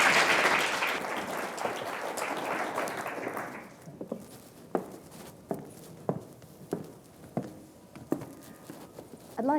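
An audience welcoming keynote experts at a cyber-security event with loud, dense applause that fades out after a few seconds, followed by a series of spaced footsteps on a hard stage.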